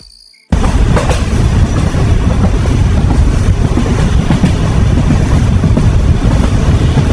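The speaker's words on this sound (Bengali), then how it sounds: "ট্রেন চলছে, সারা রাত চলবে।" A moving train in a Bengali horror cartoon, travelling through the night: after a brief quiet start, a loud, steady rumble with a rhythmic clickety-clack of the wheels carries on unbroken.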